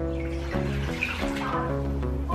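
Water poured into a crock pot while making squirrel tacos, a steady close splashing stream that runs without a break for a couple of seconds, no voices.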